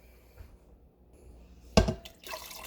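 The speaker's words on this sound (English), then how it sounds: "I'm adding more water." Water poured into vinegar for a batch of hot sauce gives a short splashy burst near the middle, followed by fainter trickling and liquid noise, with quiet background before it.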